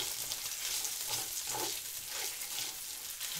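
Bacon stir-fry sizzles and crackles steadily in a hot pan, a dense, continuous hiss with soft bursts from stirring, heard alone at moderate volume.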